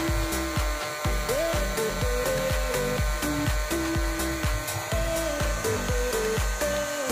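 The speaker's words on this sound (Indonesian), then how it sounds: "Karena blower ini panas ya, lebih panas dari hair dryer." Hot air blower drying the cotton of a burnt vape coil, a continuous loud whirring blower tone with rhythmic pulsing pitch shifts and rattling clicks running throughout, with no talk.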